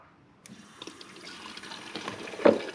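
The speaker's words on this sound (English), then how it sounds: "And look at that fuel flow." Fuel pours from the disconnected return line of a Lexus SC400 fuel pump into a container, a faint, steady liquid stream that grows gradually louder and splashes more strongly near the end.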